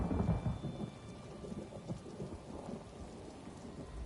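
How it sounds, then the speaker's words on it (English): Steady rain pours in a thunderstorm in the Elder Scrolls Online game, with a loud low rumble of thunder at the start fading into a constant hiss of falling rain. "I could do without this damnable rain. It's been storming since we arrived"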